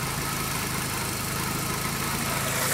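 A 1.8T engine with a vacuum leak at the intake manifold idles with a steady, close, rough mechanical rumble and fine pulsing, holding evenly through the short stretch with a slight rise at the end.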